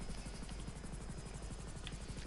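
A helicopter in GTA 5 whirs steadily throughout, its fast rotor chop pulsing evenly and loud without a break.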